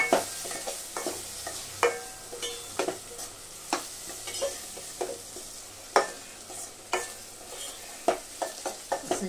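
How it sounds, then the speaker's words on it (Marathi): Brinjal frying in a pan for Marathi vangi bhaji, stirred with a spoon in steady scraping strokes over a soft continuous sizzle. "वांगी घातले, असा हलवून घ्यायचं."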